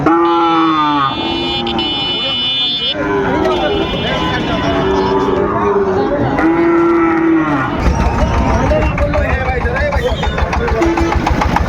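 Cattle at a livestock market moo repeatedly and loudly, several drawn-out calls close by, with people talking and a rumbling engine in the background throughout.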